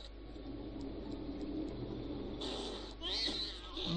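Kittens meow a few times, faint and high, over a steady low engine-like hum in the video game Aliens vs Predator 2.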